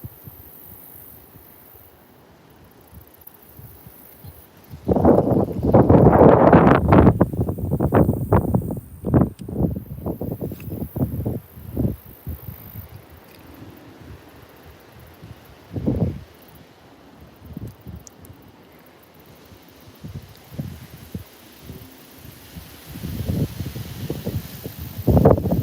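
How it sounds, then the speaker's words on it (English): Gusts of wind blow across open water while fishing in North Carolina, giving bursts of rough, buffeting rumble against the microphone. One strong stretch is followed by scattered weaker gusts. "See that wind gusting across the water."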